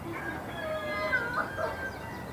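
Played sound clip of a chicken clucking, a few short, faint warbling clucks and squawks over a low background hum, with no talk.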